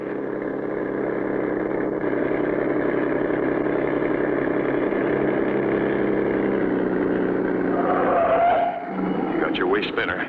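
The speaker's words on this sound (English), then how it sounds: "The driver starts the motor and away goes the truck." A cartoon truck's motor runs with a steady, loud droning hum that holds even for about eight seconds before shifting and wavering near the end.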